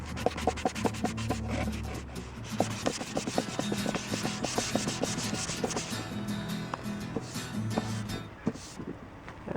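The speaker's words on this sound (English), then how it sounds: "Give it a wipe down, then a sand down." Wood hand-sanded with a block in quick back-and-forth rasping strokes, steady and close, with no talking.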